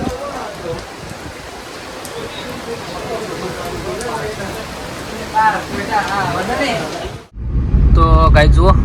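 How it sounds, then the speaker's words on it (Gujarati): Heavy rain pours steadily outside a roadside garage during a windstorm, a dense hiss that continues after a brief dropout, with someone talking over it. "તો મિત્રો જુઓ વરસાદ ચાલુ થઈ ગયો છે ધમધોકાર"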